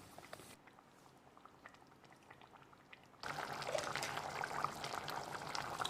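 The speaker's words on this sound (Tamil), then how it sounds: "இது ஒரு 5 நிமிஷம் கொதிக்கட்டும்." Spicy restaurant-style chicken curry gravy with salt added, boiling in a pot: a soft, steady bubbling simmer that drops quieter briefly, then returns as a fuller, louder continuous bubble.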